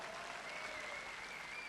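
Audience applause fills a training seminar stage in Delhi, a steady wash of many hands clapping at moderate distance, sustained evenly throughout without pause.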